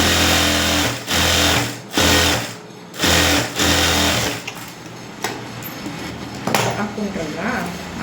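An electric sewing machine stitching a border onto a canvas-lined blouse neck, running in several short whirring bursts with pauses, then stopping as light handling clatter and soft movement follow.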